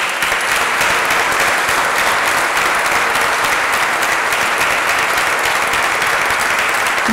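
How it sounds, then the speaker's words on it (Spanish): Loud, dense audience applause for teachers at a formal municipal council session, a continuous roar of many hands clapping at even strength throughout. "Nuevamente los felicitamos con un fuerte aplauso,"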